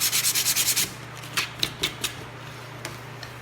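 Hand sanding on MDF wood with sandpaper, a quick run of about eight loud rhythmic rubbing strokes followed by a few fainter, scattered scrapes, with no talking.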